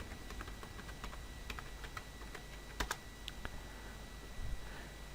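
A password is typed on a computer keyboard in quick, light key clicks, one sharper double tap partway through and a few louder strokes at the end, close and quiet against faint background hiss.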